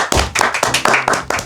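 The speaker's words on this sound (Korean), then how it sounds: "박수." Quick, rhythmic hand clapping from one or a few people welcoming a guest in an indoor studio, about six close, loud claps in a row with no talk.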